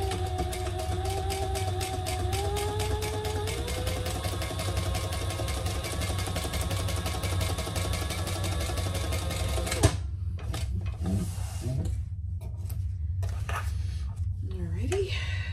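A sewing machine stitches a seam on a sling bag, running in a steady rapid whir for about ten seconds, then stopping while a voice talks over quiet handling noises.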